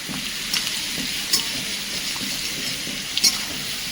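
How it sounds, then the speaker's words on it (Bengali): Kadaknath chicken pieces fry directly in hot oil in a village kitchen, producing a steady close sizzle broken by a few sharp crackling pops and light spatula scrapes, with no talking. "গরম তেলে ডাইরেক্ট মাংস দিয়ে দেওয়া হয়েছে।"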